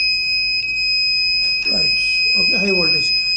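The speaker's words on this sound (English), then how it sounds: "buzzer keeps on beeps till it comes to normal" A continuous high-pitched electronic buzzer tone from a GSM-based substation monitoring system sounds throughout, steady and piercing, while someone talks over it.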